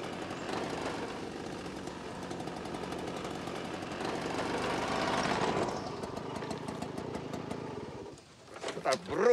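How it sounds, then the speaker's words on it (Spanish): A motorcycle engine runs steadily for several seconds, with dense mechanical noise under a busy background, then cuts out briefly before some sharper sounds near the end. "Moto."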